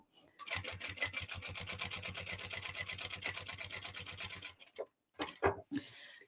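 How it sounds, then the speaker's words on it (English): A sewing machine runs a row of basting stitches along the edges of a tote bag, giving a steady, rapid mechanical chatter for about four seconds before stopping, then a few brief voice sounds. "if you want to run a row of basting stitches along these edges, then you absolutely can,"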